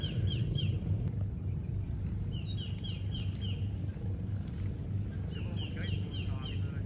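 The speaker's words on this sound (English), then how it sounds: "The birds chirping, dogs barking." Birds chirp in repeated short bright calls over a steady low rumble, distant and continuous throughout, outdoors in the Philippines.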